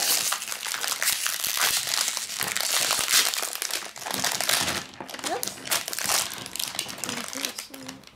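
A plastic bag of Kid K'nex building pieces crinkles and crunches steadily up close, handled continuously, with a voice briefly in the background.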